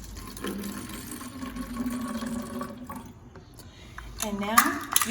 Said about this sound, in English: you pour it into the bottle.